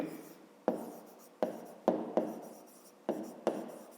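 Pen marks being written on paper while solving a fifth-grade math exercise, a series of six or seven crisp taps and short scratches at uneven intervals, close and quiet.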